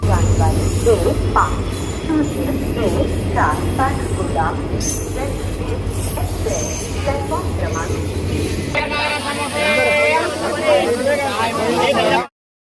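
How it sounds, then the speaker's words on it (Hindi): A train at a busy railway station rumbles low and steady under crowd noise and chatter, with squeals and hisses rising toward the end before an abrupt stop. "तो यहाँ पे ट्रेन आ चुकी है"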